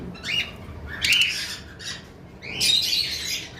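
Lovebirds let out three harsh, shrill squawks in quick succession, loud and close, with no talking.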